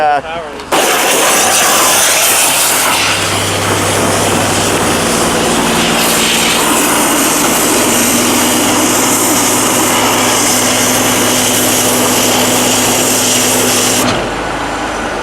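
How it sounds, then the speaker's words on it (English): A trailer-mounted cold water sewer jetter sprays at high pressure, a loud broadband rushing roar with a droning engine hum underneath, starting abruptly and running steadily for about thirteen seconds before stopping. "so this is just like a water jet cutting tool equipment here."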